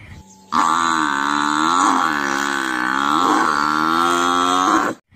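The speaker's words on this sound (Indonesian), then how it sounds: "ini sepertinya kerbau pembajak sawah" A toy water buffalo, a rice-field plough buffalo figure, lets out one long, loud electronic moo that holds steady for several seconds, wavering slightly, then cuts off abruptly.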